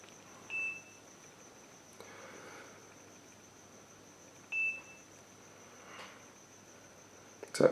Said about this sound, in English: That is the beeping sound, which is an indication that now we can start the process of setting up the camera.